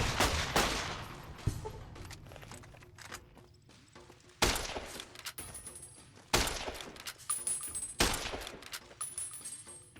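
Gunfire and dynamite blasts in the video game Fallout New Vegas: a burst of shots at the start, then three sharp loud explosions spaced a couple of seconds apart, each followed by a decaying rumble.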